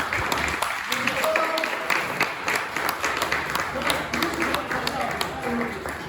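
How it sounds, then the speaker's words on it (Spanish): Steady applause from a crowd at a fish market, many hands clapping together with a few sharper claps standing out, continuing throughout with faint voices underneath. "Así que vamos a dar un aplauso fuerte a las rederas."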